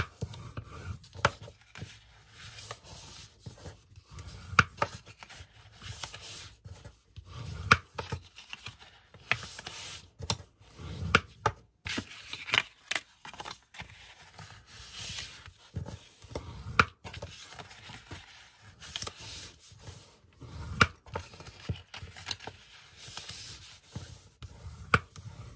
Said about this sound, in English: So we're going to fold and burnish all of our scores.